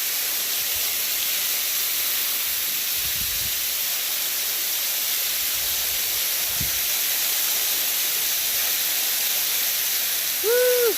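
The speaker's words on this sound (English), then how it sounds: "we came over here behind the waterfall" A waterfall along Lost Creek, heard from the rocks behind it, makes a constant, loud, even rushing roar with no breaks, and a brief voice calls out at the very end.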